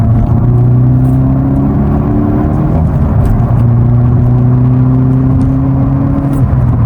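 Hyundai Veloster N engine pulling in third gear around 3,000 RPM while driving through corners, a loud, steady in-cabin hum and drone with slowly rising and falling engine tones.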